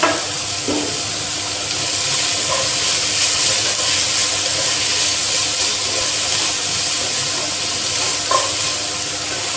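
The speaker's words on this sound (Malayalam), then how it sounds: "നമ്മളുടെ സവാള ഒന്ന് ഗോൾഡൻ ബ്രൗൺ ആകുന്നത് വരെ നമുക്ക് ആക്കി കൊടുക്കാം" Onions sizzle and crackle steadily in a hot pan while being stirred for a Kerala-style beef curry, a loud, continuous frying hiss with occasional spoon scrapes and no talking.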